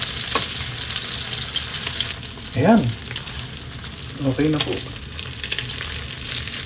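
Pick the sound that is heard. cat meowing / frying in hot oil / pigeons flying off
frying in hot oil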